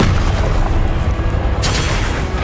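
A fire spell cast in Hogwarts Legacy, a loud, dense booming burst of crackling, roaring flame and low rumble filling the whole moment, with a brighter hiss flaring near the end.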